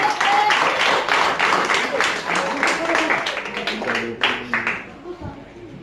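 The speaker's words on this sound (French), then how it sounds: "On peut l'applaudir." A crowd at a campground performance applauds loudly, dense clapping that tapers off toward the end.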